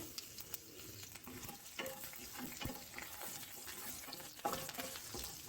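Soft crackling and popping of tempering spices with turmeric, asafoetida and curry leaves in hot oil, with intermittent spattering and stirring, fairly quiet and close.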